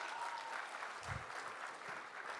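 An audience in a conference hall gives a sustained round of applause, a dense steady wash of many clapping hands with a faint low voice underneath.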